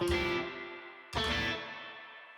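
Two struck guitar chords ring out through a CXM 1978 digital reverb pedal with its reflections darkened, each leaving a long, dull, decaying tail, close and without talk.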